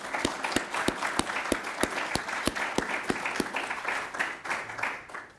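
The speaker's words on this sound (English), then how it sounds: "I'm just going to lead a round of applause." Audience at a medical symposium on brain tumor care gives a round of applause, steady dense clapping with a few sharp individual claps standing out, fairly close and filling the room throughout.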